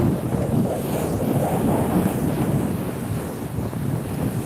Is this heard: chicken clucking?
no